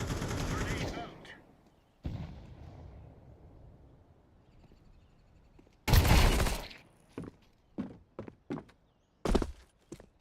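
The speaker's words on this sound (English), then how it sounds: "Grenade out." A grenade thrown in Counter-Strike 2 goes off with a loud blast midway, followed by several sharp, clipped shots and thuds after an opening stretch of low rumbling game ambience.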